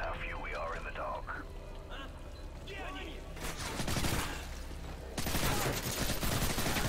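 Gunfire in Call of Duty: Modern Warfare 3 during a dark night assault, with loud bursts of shots in the second half, following a stretch of speech and game audio.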